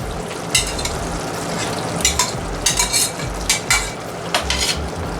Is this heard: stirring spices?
yes